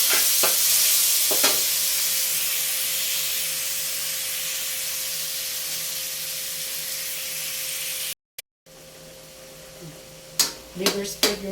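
Onion and tomato sautéing in a pan for fish caldereta, a steady sizzle and hiss throughout with occasional stirring clicks, and a few sharper scrapes near the end.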